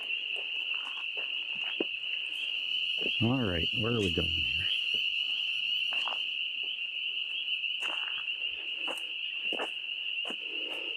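A steady, dense chorus of frogs drones through the night air outside the Hinsdale House, with someone speaking briefly and some rustling footsteps over it.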